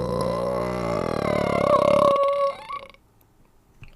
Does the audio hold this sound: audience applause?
no